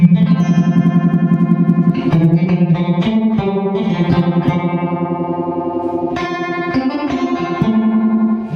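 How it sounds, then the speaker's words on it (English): Sustained electric guitar chords and notes through a ROG Tri-Vibe Warbler pedal set to a very slow phaser vibe, sweeping and swirling gradually through the tone. "I'm not really sure most phasers can get that slow."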